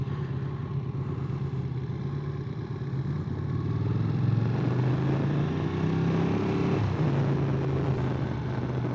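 A Ducati 959 Panigale motorcycle engine drones steadily while riding, loud and close, with pitch climbing as it revs through a gear and then dropping sharply near the end.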